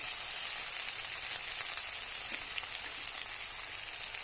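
Chopped onion and garlic frying in oil in a pan, a dense, continuous sizzle with crackling pops, close and steady throughout.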